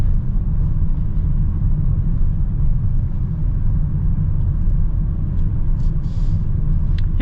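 A 2025 Honda Odyssey minivan cruises with a loud, constant low engine drone and road rumble filling the cabin, steady throughout with no voices.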